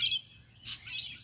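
Australian king parrots on a bright, sunny day give two short, high-pitched calls a fraction of a second apart, quiet and somewhat distant, with no voices.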